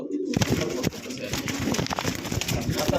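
A pair of pigeons cooing close by in a repeated low, throaty rhythm, with a few soft rustles and a light background bustle.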